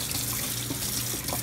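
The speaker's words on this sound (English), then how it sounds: "you're just gonna rinse them off. Nice cold water." Cold tap water runs steadily over stinging nettles being rinsed in a sink, a continuous close splashing hiss with small trickling variations.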